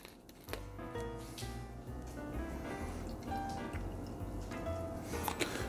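Lemon juice pours into a measuring cup in a soft trickling stream with small splashes and clinks, fairly quiet and close.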